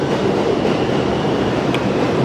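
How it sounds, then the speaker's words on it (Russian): A New York subway train rumbles loudly and continuously, a dense roar with a brief metallic squeal near the end, heard close on the platform. "а вот и метро"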